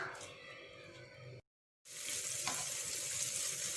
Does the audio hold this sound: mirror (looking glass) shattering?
no